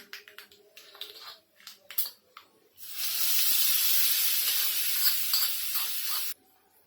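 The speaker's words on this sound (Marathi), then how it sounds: "मोहरी छान तडतडायला लागली" A few sharp pops and clatters, then a loud sustained sizzling hiss of mustard seeds crackling in hot oil for several seconds before it cuts off.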